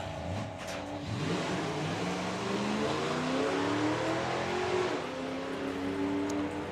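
Drag racing cars at a doorslammer event roar down the strip, a loud sustained engine note rising in pitch as they accelerate, heard from a distance over crowd ambience.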